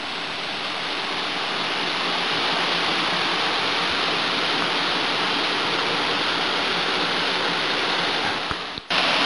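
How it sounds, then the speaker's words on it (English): Waterfall on a creek at Little Sandy, Kentucky, heard from its lower end as a loud, constant broadband roar that holds steady for nine seconds before a brief dip near the end, with no voices. "This is the lower end of the falls"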